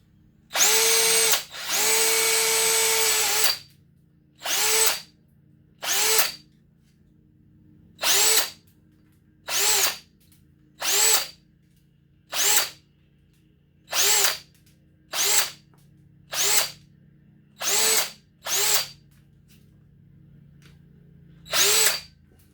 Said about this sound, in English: I'll do one last drill bit.